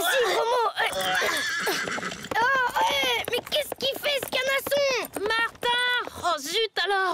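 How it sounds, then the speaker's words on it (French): A cartoon horse neighs in a string of loud, repeated whinnies over rhythmic clip-clopping hooves, with animated voices talking over it. "Oh, mais qu'est-ce qu'il fait, ce canasson?"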